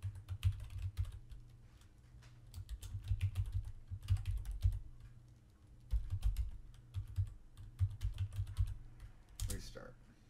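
Keys clatter in bursts of rapid typing on a computer keyboard, close by, with short pauses between runs.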